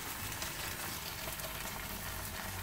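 Solyanka stewing in a pan with broth just added, giving a steady, even sizzle and simmering hiss that runs continuously at moderate level with no voices.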